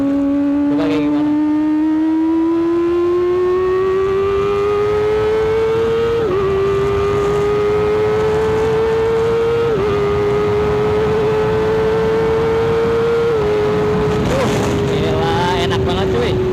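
Kawasaki ZX25R motorcycle fitted with a new aftermarket exhaust, idling loud and close with a steady high-pitched drone, repeatedly blipped upward in several quick revs, with a voice briefly talking over it.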